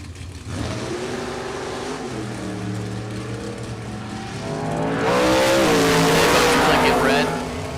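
A 1957 Corvette drag car with a 565 cubic inch big block Chevrolet engine, roaring loudly and rising in pitch near the end, with a commentator talking over the engine.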